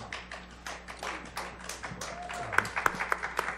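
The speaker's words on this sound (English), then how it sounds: "Women are clapping that have had an experience" Women in an audience clap as a series of distinct sharp claps that start sparse and grow louder, with faint talk underneath.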